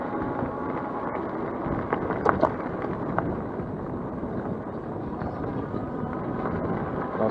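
A Burchda RX80 electric scooter is ridden faster off-road, giving steady rumbling rolling noise and wind buffeting throughout, with a brief rattle partway through and no talking.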